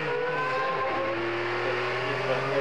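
A Mazda 767B race car, number 202, passes on a racing circuit during a vintage race reunion, its engine a sustained high-pitched whine that stays loud and fairly close throughout.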